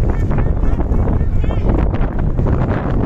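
Strong wind blasts into the microphone during heavy snowfall at Rohtang Pass, a loud, constant roaring buffet filling the whole stretch, with a voice speaking underneath.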